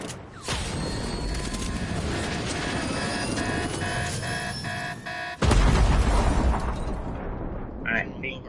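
An in-game helicopter in Fortnite is blown up, with a sustained roaring rumble that jumps to a louder, heavy explosive burst about two-thirds of the way through.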